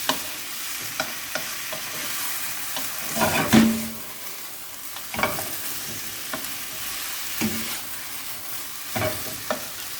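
Bay leaf and aromatics sweating in a pot for Jamaican brown stew fish, a soft steady sizzle under intermittent clinks and scrapes of a spoon stirring, heard up close.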